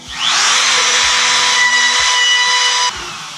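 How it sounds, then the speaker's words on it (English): A handheld router fitted with a quarter-inch rounding bit cuts along plywood edges for a plyo box, spinning up to a loud, steady high whine for about three seconds before cutting off abruptly. "Now if you have a router, like I do, this is a really good time to go ahead and round the edges"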